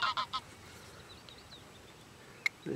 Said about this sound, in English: Hello, seagull.